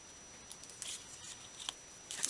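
Scissors snip through paper ephemera for journaling in a few soft, crisp cuts spaced unevenly across a quiet room, faint and close with no talking.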